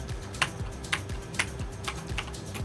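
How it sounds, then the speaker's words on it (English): Fluid typing on a computer keyboard while learning the Dvorak layout, with steady bursts of close, crisp key clicks and a few louder strokes standing out, no voices. "she begins typing again, no longer looking at the keyboard, more fluid,"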